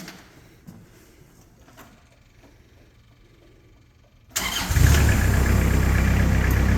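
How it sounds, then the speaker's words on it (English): The Kubota engine of a 2014 Moffett M55 truck-mounted piggyback forklift cranks and catches after a few quiet seconds, then settles into a loud, steady, close-up rumble. "I'm going to take this Kubota engine to life."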